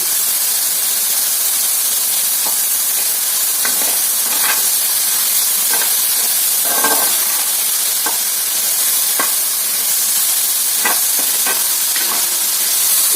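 Ridge gourd fry sizzles loudly and steadily in a pan, a dense hiss broken by repeated scrapes and clacks as it is stirred, close up with no talk.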